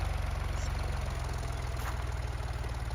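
A Ford 3630 Super tractor engine idles close by, a steady low rumble with a rapid, even knocking pulse that holds unchanged throughout, with no talk over it.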